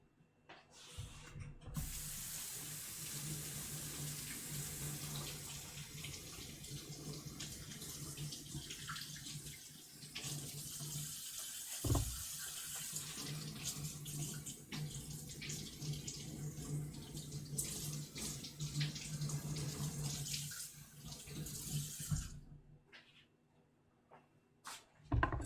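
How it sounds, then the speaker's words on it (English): Running tap water streams continuously over baby potatoes being rinsed, a steady splashing wash with shifting intensity as the potatoes are moved about under the flow, then cuts off near the end. "We'll give these all a rinse off."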